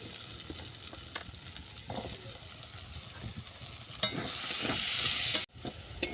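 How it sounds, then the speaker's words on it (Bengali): Potato pieces sizzle in hot oil up close, frying until browned, with light stirring sounds; the hiss swells louder for a moment before cutting off briefly. "এই তেলের মধ্যে আমি আলুটাকে ভেজে নেব"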